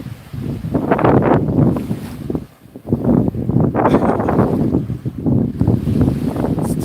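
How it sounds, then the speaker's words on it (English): Strong beach wind buffets the microphone in loud, rumbling gusts that surge and briefly ease, with a wash of surf or water noise underneath and no speech. "Too windy, I'm sorry."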